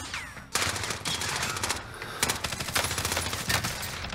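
Rapid automatic gunfire in a first-person shooter game, AK-47 bursts crackling loud and close in dense repeated volleys with short pauses between them.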